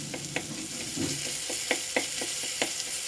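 Vegetables are stirred in hot oil where sugar is caramelizing, with a steady close sizzle broken by regular scraping strokes of a spatula against the pan.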